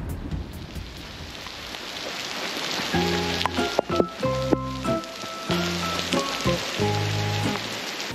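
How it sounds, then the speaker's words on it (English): Rain falls steadily on a summer day in the French Alps, a soft continuous patter with brief louder bursts of pattering later on and no voices. "annoyingly it started raining just after my second sprint"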